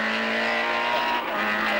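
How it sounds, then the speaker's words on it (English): Rally car from the 2003 Irish rally season in the closing stages of an event, a steady loud engine drone with a constant tone and faint tyre noise, alone with no talk. "Guiding his car through the closing stages, Kevin Barrett"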